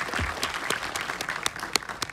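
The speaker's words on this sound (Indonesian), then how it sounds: "Tepuk tangan dulu buat Pak Andika di situ" Audience applause for Pak Andika, head of the tourism and creative economy office, at a community Spider-Man screening event; steady clapping from a crowd with sharp individual claps standing out, no speech.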